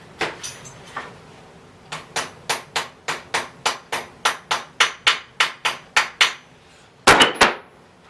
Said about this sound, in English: I'll be able to pound it down flat